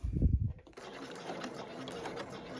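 A sewing machine stitches a knife-pleated garment in a steady, close, continuous mechanical whir, right after a brief low rumble of handling at the start.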